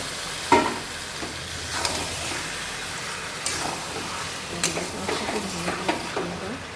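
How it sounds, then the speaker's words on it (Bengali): Chicken pieces dropped into hot oil in a pan, a continuous sizzle and hiss with scattered knocks and scrapes of a spatula, close by and fairly loud, no clear talking. "তেল হয়ে এবং আমি এখানে চিকেনটা দিয়ে দিলাম"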